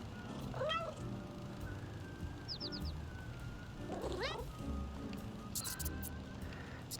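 Cat meows in the video game Little Kitty, Big City: several short rising meows and chirps, close and clear over soft background music and ambience.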